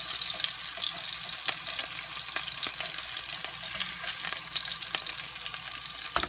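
Ricotta-stuffed Italian meatballs fry in a pan, giving off a steady, close, dense sizzle and crackle with scattered pops and no voices.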